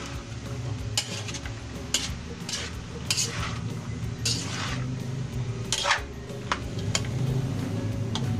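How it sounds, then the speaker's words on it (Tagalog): A spoon stirs vegetables in a hot pan, giving repeated clinks and scrapes against the metal at an uneven pace over a steady low sizzle, close and moderately loud, with no voices. "mix lang po natin"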